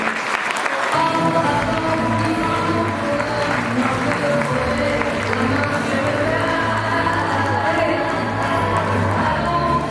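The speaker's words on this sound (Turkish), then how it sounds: "Kocaman bir alkış alalım." Sustained, dense audience applause at the Karialife gathering after a performance, a loud, even wash of clapping for ten seconds with a busy crowd murmur underneath.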